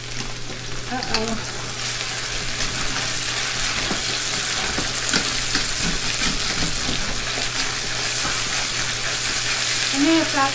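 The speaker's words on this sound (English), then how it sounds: "They're really cooking and sizzling." Potatoes fry in a pan with plenty of oil, giving a loud, continuous crackling sizzle close by that holds steady for about ten seconds, with occasional stirring clatter.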